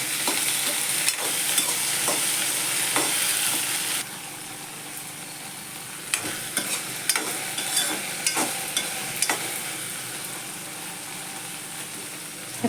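Finely chopped okra sautéing in an open pan without a lid, a continuous frying hiss that drops in level partway through, broken by scattered spatula scrapes and stirring knocks.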